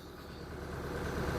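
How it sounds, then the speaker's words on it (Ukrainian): A SCOUT TV-904 C tractor engine idles steadily while warming up in snowy conditions, a continuous low rumble that swells slightly louder over its short span, with no voices. "Трактор гріється поки."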